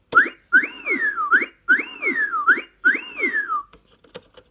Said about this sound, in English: This button here doesn't even do anything except makes a whistle sound.